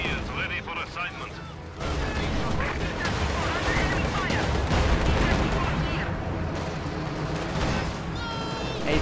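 Dense battlefield gunfire from a real-time strategy game pitting Soviet T-34 tanks and anti-tank guns against opposing infantry, with a steady roar of shots and blasts layered over continuous combat noise, loud and close throughout.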